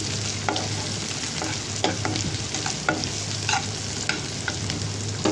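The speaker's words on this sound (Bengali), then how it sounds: "ভালো করে নাড়াচাড়া দিয়ে নিচ্ছি" Taki fish crumble (jhurjhuri) with green chillies being stirred in a frying pan, a steady background sizzle broken by repeated short scraping strokes of the spatula, close and moderately loud with no talking.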